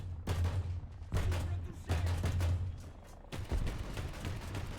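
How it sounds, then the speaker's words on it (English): A wheeled tank cannon fires repeatedly in the War Thunder video game, four heavy booming shots roughly a second apart, each with a sharp crack and rumbling tail, loud and close. "And then, of course, you have the good old cannon."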